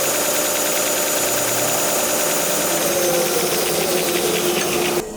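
A combination belt sander and disc grinder in a wood shop runs with a steady, loud motor hum and whirring belt, cutting off sharply near the end.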